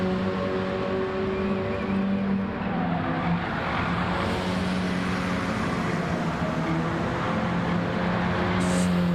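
Racing cars lapping a track, a steady, continuous engine drone with sustained tonal hum throughout, no speech.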